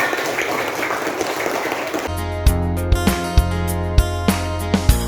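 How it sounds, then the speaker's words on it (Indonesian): Schoolchildren in a classroom lesson break into a short burst of applause, then a strong tonal pattern with regular loud beats takes over, like music playing at close range. "tepuk tangan untuk kita semua."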